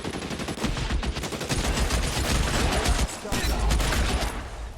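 A Browning .50 cal machine gun fires in the video game L.A. Noire: loud, sustained rapid bursts that barely pause, dense and harsh.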